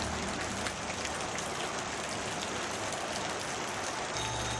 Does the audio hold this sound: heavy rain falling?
yes